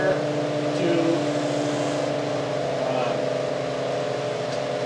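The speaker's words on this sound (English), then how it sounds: "accelerate or decelerate the motor" The electric motor of a generator demo runs with a steady tonal hum and faint harmonic whine, moderately quiet, while a voice talks over it.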